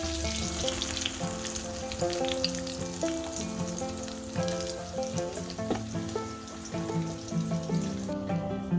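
Pangasius fish fries crisply in hot oil with a steady crackling sizzle and scattered pops, while soft background music plays.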